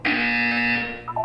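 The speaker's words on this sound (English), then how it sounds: "You will hear a buzzer. When you hear the buzzer, look down at the floor." A buzzer in the Portal 2 video game, a loud, harsh electronic buzz held steadily for about a second, followed by a brief two-note chime.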